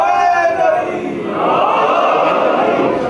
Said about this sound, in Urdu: یہ جو یا علی کا نعرہ لگاتے ہیں